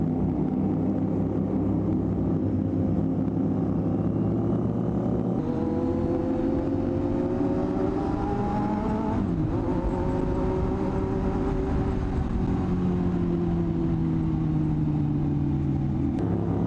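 A Kawasaki 450 SR motorcycle engine with a 270-degree crossplane crank and a deep, rumbling V-twin-like note runs steadily, its pitch rising and falling slightly as it revs.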